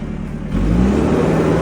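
The engine of an old Isuzu D-Max rises from idle into a loud, sustained rev as the accelerator is pressed, close by with a steady mid-pitched roar and no talking.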